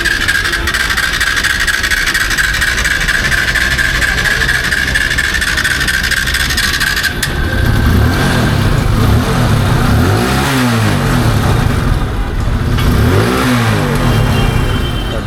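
A carbureted motorcycle catches and starts after sputtering, then the engine revs up and down in loud, near surges over a steady running drone.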